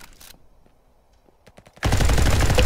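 Gunfire in the Roblox game RF Legacy: a few faint scattered shots, then a loud dense burst of rapid automatic fire close by for the final second.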